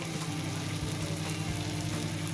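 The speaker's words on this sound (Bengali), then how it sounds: "দিয়ে এবার একটু ভালো করে কষিয়ে নেবো মশলাটাকে" Lata fish masala with turmeric and onion greens fries in a pan, giving a continuous, even, close sizzle with faint stirring scrapes underneath, and no talking.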